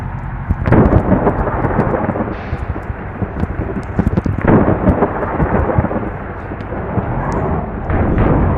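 A thunderstorm in the bus-driving game Bus Simulator Indonesia rumbles loudly and continuously, with heavy rolling thunder and rain noise filling the whole stretch.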